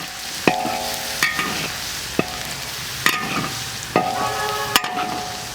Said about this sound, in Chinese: 油温烧热，我们下入1半的蒜啊，我只炒1半，有1半先不炒，给它炒下，炒香味出来